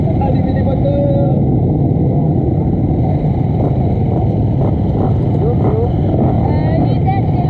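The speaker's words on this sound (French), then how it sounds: "Allez, messieurs, allumez les moteurs." Several motocross motorcycles run together at an amateur championship race meeting, making a loud, continuous, dense engine roar with wind buffeting the microphone.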